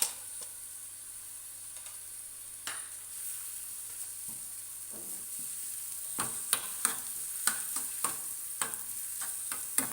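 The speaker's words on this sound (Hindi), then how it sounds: "हल्के से प्याज को फ्राई कर लेना है हमने" Steady soft sizzling of chopped onions frying in oil, with occasional sharp clicks and taps of a utensil against the pan.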